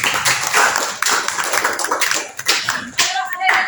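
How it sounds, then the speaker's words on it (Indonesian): A burst of applause from a group, steady clapping over a few seconds with some voices mixed in. "tepuk tangan untuk Destian"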